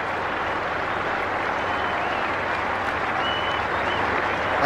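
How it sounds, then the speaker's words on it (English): A cricket crowd at the Adelaide Test between Australia and the West Indies applauds as Brian Lara departs for 182. The clapping is dense, steady and sustained, a broad wash of hands from a large stadium that fills the whole stretch without letup. "listen to the crowd, their appreciation of such a great innings"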